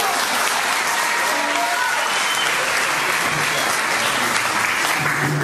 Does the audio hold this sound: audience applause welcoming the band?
yes